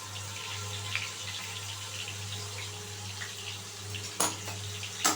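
Pieces of pointed gourd (potol) fry in hot oil, making a steady, close sizzling hiss with a couple of sharp clatters near the end.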